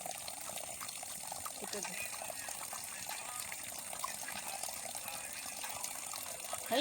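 Water flowing out into a farm field, a steady outdoor gush and trickle at moderate distance, with faint background activity and no clear talk.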